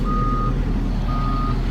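A forklift unloading trucks sounds its reversing alarm: two long, steady electronic beeps separated by a pause, loud and close over a constant low engine rumble.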